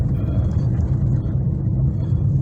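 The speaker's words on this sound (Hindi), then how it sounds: "बहुत ज़्यादा ट्रैफिक।" Heavy traffic full of trucks grinds along a badly broken highway between Bardhaman and Malda, a dense, loud, continuous low rumble from up close with no talk over it.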